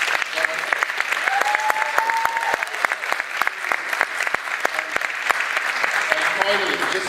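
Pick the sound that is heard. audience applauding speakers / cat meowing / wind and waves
audience applauding speakers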